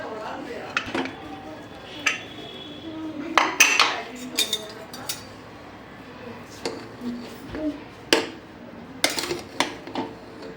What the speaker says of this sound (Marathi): कुकर उघडून बघूया कसं झालं